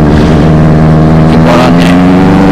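A Benelli 600i superbike engine idling loud and close, with a rough, throbbing rumble that wavers and dips as if about to stall, and no talk over it.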